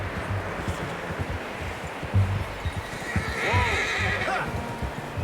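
Horses in the Red Dead Redemption 2 video game clip-clop along and one gives a loud, clear whinny and neigh, with muffled game sounds and a voice in the background.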